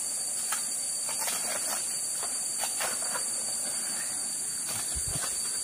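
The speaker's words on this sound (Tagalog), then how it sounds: "Yung hulirot ng tubig oh." Water swirls and gurgles steadily through a partly dammed mountain stream, a continuous close hiss and wash broken by small splashes, with a low thump near the end.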